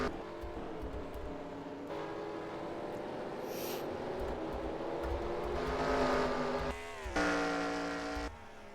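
Race car engines roar steadily in a stock-car series racing video game on the Charlotte Roval, several cars droning and shifting pitch together at close range, swelling louder toward the end with a brief dip.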